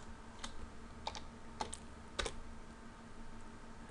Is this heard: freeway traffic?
no